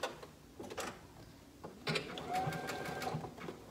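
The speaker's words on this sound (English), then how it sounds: "I'm just gonna use my zigzag here that I have all set up" Sewing machine running a zigzag stitch along a turned-under half-inch hem on shorts, a steady mechanical whir with rapid ticking close by, pausing briefly, then resuming with a rising hum.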